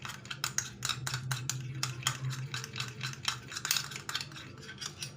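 A spoon clicks and taps rapidly inside a container while a hand and foot whitening formula is mixed, producing quick, even ticking strokes over a faint low hum, with no speech.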